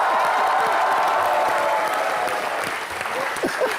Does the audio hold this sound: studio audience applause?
yes